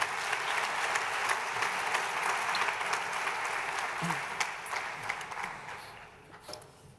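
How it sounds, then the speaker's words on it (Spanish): Audience applauding at a gastronomy forum in Girona, a dense, steady burst of many hands clapping that carries on for several seconds and gradually thins out toward the end. "Un aplauso."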